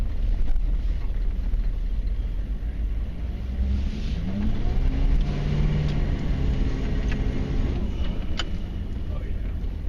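A 1994 Chevy Silverado K1500 with a 6.5L turbo diesel drives along with a steady low engine rumble, heavy wind buffeting the microphone over it and faint cabin noises throughout.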